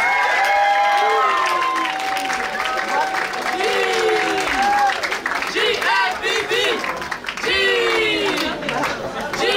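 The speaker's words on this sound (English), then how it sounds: "Give them a round of applause, y'all." A Halloween vogue ball crowd claps and cheers loudly, with whoops and shouting voices rising over dense applause and chatter that surges and dips throughout.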